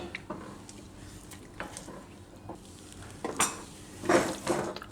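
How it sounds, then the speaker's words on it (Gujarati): A dry fruit sweet mixture being stirred in a pan, heard as soft sizzling under irregular scraping and clinking strokes of a spoon against metal, close up and growing busier toward the end, with no talk. "આને આપણે બરાબર મિક્સ કરી લેવું એક સરખું."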